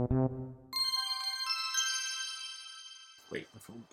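A phone notification chimes: a bright, ringing run of tones that hold and slowly fade, preceded by a brief low sound and followed by a voice speaking.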